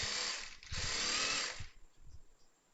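A sewing machine stitches a churidar in a loud, close, rapid whirring run with a brief dip partway, then stops, leaving faint intermittent mechanical knocks.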